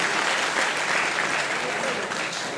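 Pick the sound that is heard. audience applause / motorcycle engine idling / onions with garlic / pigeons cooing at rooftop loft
audience applause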